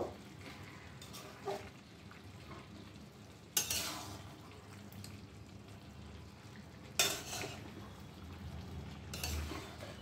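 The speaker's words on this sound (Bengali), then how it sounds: "এবার সবটা ভালোভাবে নেড়ে ভালোভাবে সব মিশিয়ে দেব।" Chicken and onions are stirred together in a pan over a low, steady sizzle, with a few louder scraping sweeps of the spoon through the mix.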